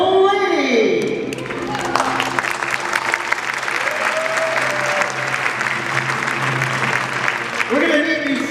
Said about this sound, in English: So let's have a nice round of applause for the invisible lady.